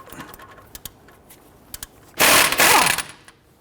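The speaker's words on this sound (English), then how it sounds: "Now we got our lower bolt out with our impact gun" Impact gun loosening a 19mm lower bolt on a brake caliper bracket of a 2005-2021 Nissan Frontier, heard as a loud, dense hammering burst of about one second after light clinks and handling noises.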